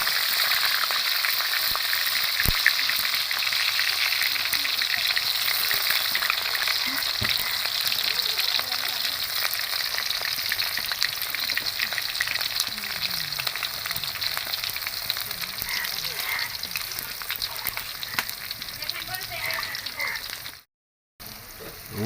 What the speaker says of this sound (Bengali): আমার পেঁয়াজ একটু কষিয়ে নিয়েছি।